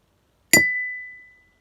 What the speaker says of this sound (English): take our spoon and tap them on the side of the glass